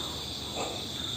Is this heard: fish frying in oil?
no